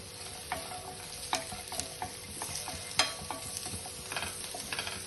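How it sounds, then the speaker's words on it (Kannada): Onion and garlic frying in a pan for Kundapura chicken curry, with a steady close sizzle and repeated sharp scrapes and clinks of a spatula stirring against the pan, with no voices. "ಈರುಳ್ಳಿ ಬೆಳ್ಳುಳ್ಳಿ ಸ್ವಲ್ಪ 5 ನಿಮಿಷ ಹುರ್ಕೊಳ್ಳಿ"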